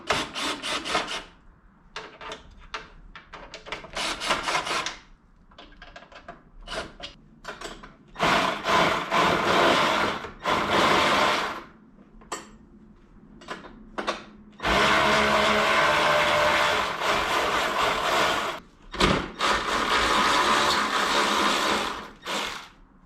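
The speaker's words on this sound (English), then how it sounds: "we're gonna go ahead and take off the screws on this side" A power driver removing screws from the side plastics and footwell frame of a Yamaha YFZ450R ATV, close and loud, with repeated whirring bursts of varying length between short pauses and no talking.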